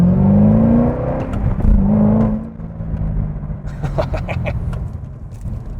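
2010 Chevrolet Corvette ZR1 engine revving, a deep loud rumble that rises and falls in pitch across several throttle blips, close by and with no talk over it.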